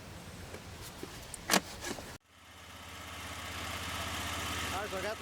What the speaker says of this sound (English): I got the motor running